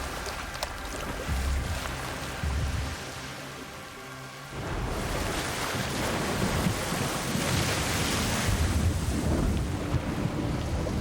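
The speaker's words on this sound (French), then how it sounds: "Les vagues en 20 FPS, c'est du enjeu" Rolling ocean waves and wind from a video game, a steady broad wash that swells louder after a brief dip partway through, with no voices over it.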